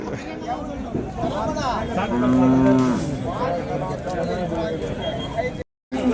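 Large native-breed bulls at a rural cattle market in Kunthapalli, Krishnagiri district, moo loudly with a long drawn-out low call in the middle, over steady crowd babble and people talking nearby.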